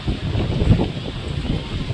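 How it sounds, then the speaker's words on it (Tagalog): Strong beach wind at a resort in Bolinao, Pangasinan buffets the microphone with a low, rumbling roar that gusts unevenly throughout, loud and close. "Takas ng hangin guys."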